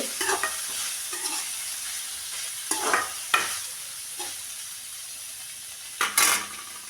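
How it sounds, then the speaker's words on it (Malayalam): Chopped beetroot with salt being stirred in a pan for rasam, a soft background sizzle punctuated by sharp clinks and scrapes of a spoon against the pan at irregular intervals, close and without talk. "ബീട്രൂട്ടും കൂടെ നമുക്ക് അതിലിട്ട് ശകല ഉപ്പും കൂടെ ഇടാം"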